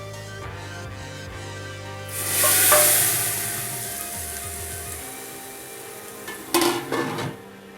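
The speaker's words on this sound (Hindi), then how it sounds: "जो हमने तड़का तैयार किया था वो हम अब अपनी कढ़ी के अंदर डालते हैं।" Hot tadka tempering poured into a pot of kadhi for kadhi pakora, stirring and clatter first, then a loud sizzling burst that settles into steady frying, with a second sharp hiss near the end; no talk.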